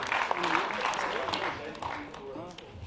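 An audience at a wildlife fundraiser auction claps for the winning bidder. The applause is moderately loud and fades slightly toward the end, with a voice speaking over it throughout.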